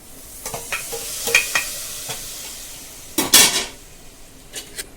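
Chili powder is stirred into a sizzling tadka for nihari, with a soft hiss of frying under scattered spoon clinks and scrapes, one louder cluster of scraping midway, close up and without speech.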